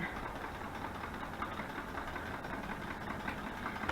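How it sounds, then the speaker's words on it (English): A sewing machine runs steadily while stitching fabric journal pockets, giving a continuous, fairly quiet mechanical hum and rattle with no pauses. "now I'm just sewing"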